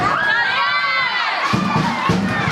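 A crowd at a Samoan dance recital cheers and shouts, with children's high voices prominent. The whooping, yelling din is loud and continuous throughout.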